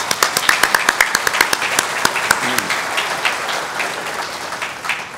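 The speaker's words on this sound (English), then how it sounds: "Let's give them a round of applause." Audience applause at a gala event, a burst of claps starting sharp and loud, then settling into a steady, slightly softer patter that continues throughout.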